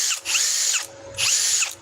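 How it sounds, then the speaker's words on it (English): A cheap power drill running on stacked 24-volt lithium batteries whines loudly in two short bursts, spinning up and winding down with a pause between, close and without talk. "24 volts of stacked lithium running through a cheap power drill."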